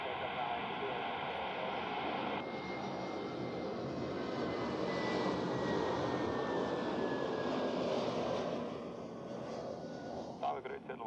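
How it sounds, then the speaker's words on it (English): Swiss Airbus A320neo landing on runway 14 at Zurich Airport, a sustained broad engine roar holding steady at a distance for several seconds before easing off, with faint tonal whine. "inbound from Valencia is a Swiss A320 Neo"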